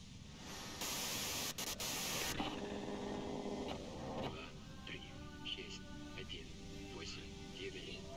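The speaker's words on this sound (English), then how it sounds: "If you've got something really important to say, you can do it through the white noise." A loud burst of white-noise static from the video game Disco Elysium lasts about a second and a half, then cuts away to quieter tonal game ambience.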